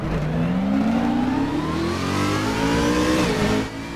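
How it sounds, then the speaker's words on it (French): BMW Z4 GT3 race car by VDS in Raceroom, leaving the pits at the Nürburgring, its engine droning steadily with rising pitch as it accelerates, loud and continuous before easing off near the end. "Allez, on quitte les box avec notre Z4 VDS pour la qualification avant cette épreuve."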